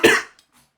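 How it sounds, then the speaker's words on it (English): A single sharp cough bursts out close to the microphone and fades within a fraction of a second, followed by a faint, brief throat noise and then near silence. "that's why I was coughing"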